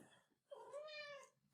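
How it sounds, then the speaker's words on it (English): A pet cat gives a single drawn-out meow during a home lecture, rising then falling over about a second, faint and close, with no talking over it. "She will drop in on the lecture here and there and meow."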